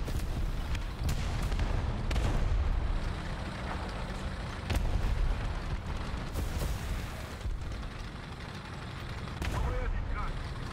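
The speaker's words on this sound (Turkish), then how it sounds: "Patlama, ha patladı." Tank combat in the video game War Thunder brings a dense, loud rumble of explosions and heavy gunfire, with sharp blasts breaking through every few seconds and a voice talking over the battle.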